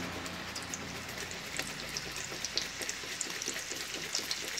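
Sliced vegetable rounds crackle and sizzle as they fry in hot oil reused from making a sweet dish, a steady dense spitting with scattered sharper pops and no talk.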